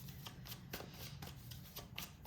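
Tarot cards being shuffled by hand during a reading, a steady run of quick riffling flutters close up with no talking over them.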